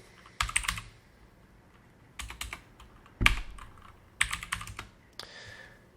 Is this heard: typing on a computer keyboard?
yes